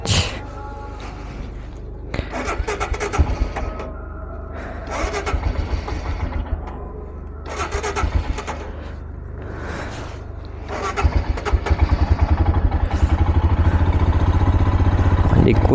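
A motorcycle on a cold mountain road toward Ladakh coughs through start attempts, then settles into a rising, steady engine drone near the end, heard close with someone speaking intermittently over it.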